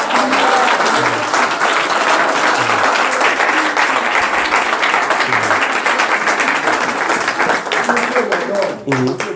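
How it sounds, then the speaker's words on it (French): Congregation applauding the Lord during a Cameroonian prophetic church gathering, loud continuous clapping from a crowd sustained throughout, with voices mixed in beneath. "Applaudissez pour le Seigneur."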